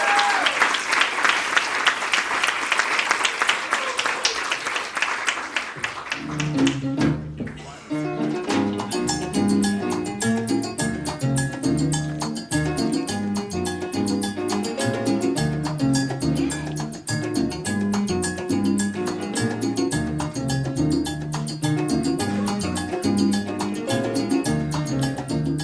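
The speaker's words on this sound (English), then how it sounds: "Big round of applause for Nicole again," Applause from the audience at a community sponsorship awards night as an honoree named Nicole comes up, a dense crowd sound that rises after the first few seconds and then runs steadily, with music playing along under it.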